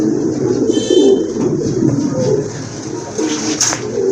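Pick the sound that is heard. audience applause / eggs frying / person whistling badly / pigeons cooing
pigeons cooing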